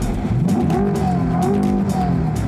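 A Chevrolet Corvette C8 Stingray's V8 engine revs and rumbles close by, its pitch climbing and dropping through gear changes, loud and alone.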